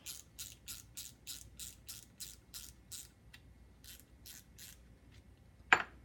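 A spinning fishing reel's spool comes off with a run of evenly spaced, crisp ratcheting clicks, then a few scattered ticks and one sharp, louder snap near the end, all close and quiet with no talking.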